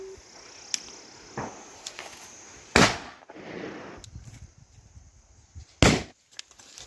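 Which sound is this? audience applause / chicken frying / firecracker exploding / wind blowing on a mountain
firecracker exploding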